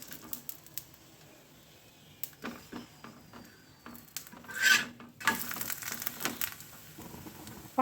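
Dhebra, a wheat and millet Gujarati flatbread, fries in oil in a pan over a medium gas flame, giving a soft, uneven crackle and sizzle with scattered small pops that grow busier toward the end.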